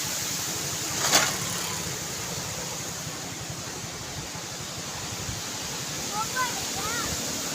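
Water released through the Qadirabad Barrage rushes into the river with a steady, broad roar that holds constant throughout, with a few faint brief sounds on top.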